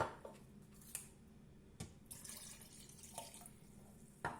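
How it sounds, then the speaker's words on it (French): Lukewarm water poured into baghrir batter for semolina crepes, a soft running trickle with a few splashes and drips, quiet and close. "on va mettre l'eau tiède"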